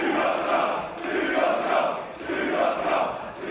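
A wrestling crowd at a WCPW Reloaded event jeers the referee, a loud mass of voices rising and falling in rhythmic, chant-like surges about once a second.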